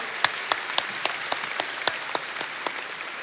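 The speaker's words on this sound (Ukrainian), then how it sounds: "Аплодисменти, пану Дмитру, наші вітання." Sparse, scattered clapping from an award ceremony audience, individual claps rising and falling without forming a steady ovation, no voices over it.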